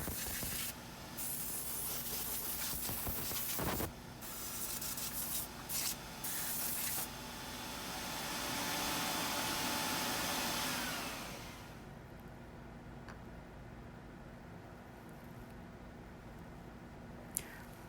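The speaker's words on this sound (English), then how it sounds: "I've got the vacuum on, drawing that dust away from me just as quick as I produce it" A loud, constant shop vacuum roar mixes with abrasive sanding scrapes on a woodturned pear bowl, then cuts to quieter background hiss with a few faint clicks.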